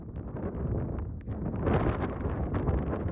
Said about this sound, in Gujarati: અહીંથી એમ લાગે કે વાતાવરણ પવન થોડો થોડો છે